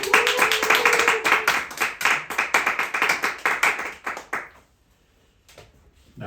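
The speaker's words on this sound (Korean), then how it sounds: "크게 환호하시고 박수하시길 바랍니다." A seated audience claps together loudly and briskly at a Korean reading event for a Pilgrim's Progress narration, about four seconds of dense applause that stops abruptly into near silence.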